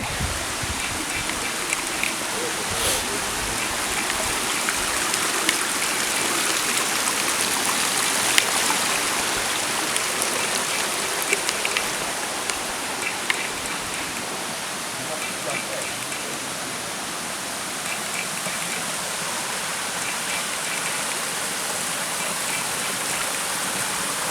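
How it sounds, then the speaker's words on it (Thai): Continuous rushing water of a small waterfall in a stream at Hua Mae Kham, Chiang Rai, Thailand, a dense steady roar close by, running without pause throughout. "น้ำตกในลำห้วย"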